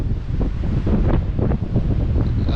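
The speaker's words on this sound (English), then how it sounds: "we're walking away because the winds are too strong" Strong wind buffets the microphone on the Cornish coast near Tintagel, a loud continuous roar with gusting surges and rumble.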